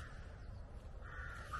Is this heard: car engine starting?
no